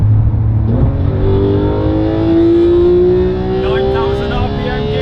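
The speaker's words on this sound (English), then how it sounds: "Going to drop it down a few gears, get those revs up" A 2017 Porsche 991.2 GT3 engine revs loudly through downshifts and climbs steadily in pitch toward 9,000 RPM, a droning, whining tone that rises close by with a brief dip early on.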